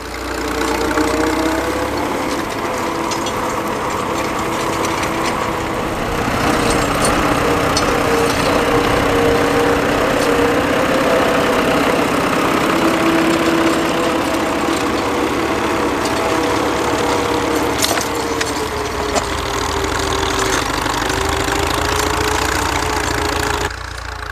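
A World War II-era Fordson Model N tractor engine runs steadily at close range, a loud, rough, knocking mid-low drone with slight shifts in pitch throughout and no speech.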